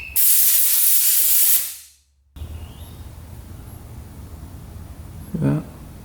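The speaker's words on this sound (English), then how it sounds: "And then we'll blow it out with the air compressor." A compressed-air nozzle blasts a loud, close hiss through an ATV carburetor for about a second and a half, then cuts off, leaving quiet room noise and a brief faint squeak near the end.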